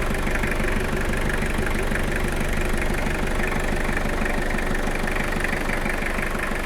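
A 1993 Toyota Hilux engine runs at a steady idle, with a loud, constant low rumble and fine, even mechanical clatter from start to finish.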